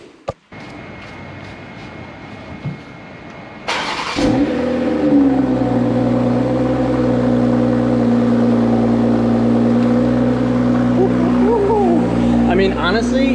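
A BMW X3 M40i starts up and settles into a steady, loud idle and low rumble, close by, after a quieter stretch of background noise, with brief rising tones near the end.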